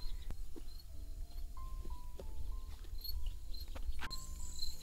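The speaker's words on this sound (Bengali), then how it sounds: "ঝিঝি পোকা ডাকতেছে।" Crickets chirp faintly and steadily at dusk in a quiet tea garden in Banshkhali, Chittagong, with a few soft bird calls scattered through the background.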